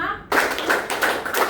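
A classroom of students claps together in a counting clap game, a short run of four or five crisp, evenly spaced claps in a group, with voices mixed in.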